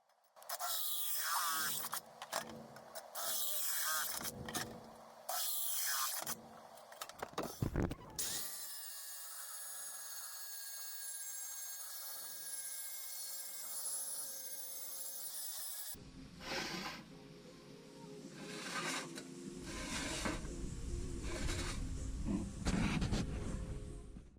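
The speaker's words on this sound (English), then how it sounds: "Let's drill some air holes in this thing." A power drill bites into a steel water expansion tank, boring air holes in several bursts, with a steady high whine and harsh grinding rasp between short pauses.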